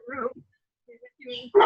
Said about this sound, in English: The dogs are welcoming all.